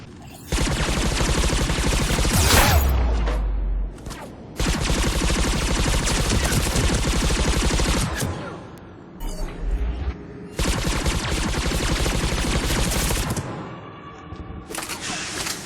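Dense, loud gunfire and sniper shots from the video game Mass Effect 3, sustained bursts broken by brief pauses around four, eight and fourteen seconds, with no talking.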